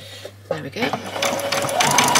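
A domestic sewing machine back-stitching the seam of a doll's dress runs in short starts, then a steady rising whir, while someone talks over it.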